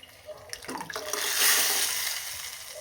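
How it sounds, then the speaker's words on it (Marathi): Water pours in a steady stream into a pan of dal, building to a louder splash midway before tapering slightly; close by, with no talking. "मी याच्यात अजून थोडंसं पाणी टाकते"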